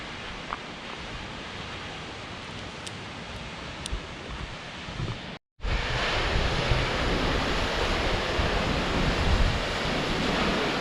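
Twin Falls, a 200-foot waterfall, pours in a dense, steady roar of rushing water close by, continuous and broadband with wind buffeting, broken only by a momentary gap midway.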